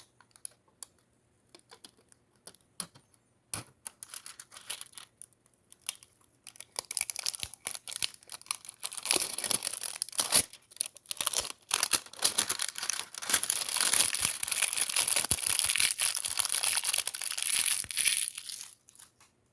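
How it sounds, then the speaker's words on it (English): Crinkly plastic wrap peeling off a tarot card deck box in a long run of dense, crackling rustles, starting with scattered ticks and building into steady close-up crackle. "Let's keep quiet to hear how it peels off."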